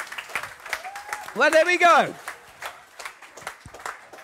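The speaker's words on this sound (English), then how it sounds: "Massive round of applause for our authors" Scattered claps from an audience at a late-night comedy show, sparse and uneven rather than a full ovation, while someone talks over them with a rising, drawn-out vocal line.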